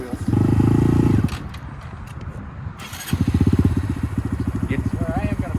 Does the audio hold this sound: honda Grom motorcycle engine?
yes